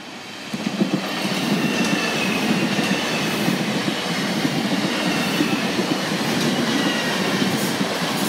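Class 458 electric trains run past the North Sheen level crossing in Greater London, a loud continuous rolling roar with clicking wheel beats over rail joints and faint squeal, close and sustained throughout.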